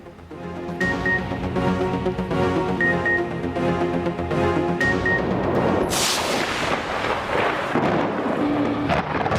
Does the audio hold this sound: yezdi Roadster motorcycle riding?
no